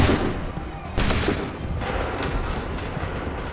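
A musket volley fired by a line of soldiers in Assassin's Creed III, a loud crackling burst at the start and another near the one-second mark, followed by rolling echoes and battlefield din.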